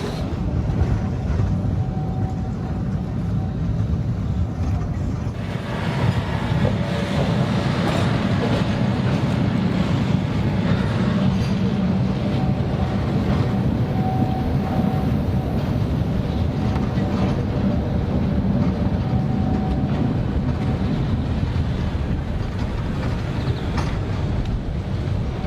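A train runs on the Mallorca railway to Port de Soller, its continuous rolling rumble heard from on board, steady and fairly loud, with wind buffeting the microphone and no clear speech.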